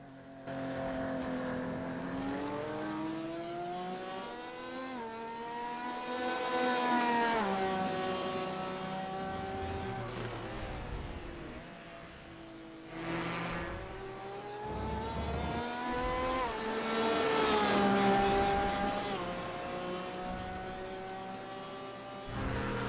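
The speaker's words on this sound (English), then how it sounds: "Do these Porsches have boxer engines? Is that why they sound like boxer bees?" Porsche race car engines in a racing video game drone and rise in pitch in long sweeping passes, a steady high-revving buzz that swells and fades twice with no voices.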